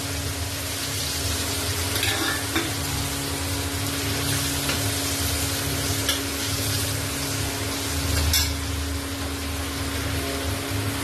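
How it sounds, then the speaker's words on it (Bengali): Whole spices sizzle steadily in hot oil for a mutton curry: bay leaf, dried red chili, cumin seeds, cinnamon, cloves and cardamom, a continuous close crackling hiss with occasional stirring scrapes and no talk. "ফোড়নে দেব তেজপাতা শুকনো লঙ্কা গোটা জিরে দারচিনি লবঙ্গ এলাচ"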